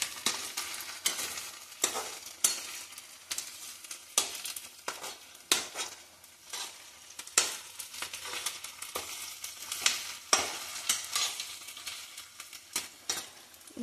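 Onions frying and sizzling in a hot pan while being stirred, giving a steady close crackle broken by repeated scraping strokes of the spoon against the pan, with no talk.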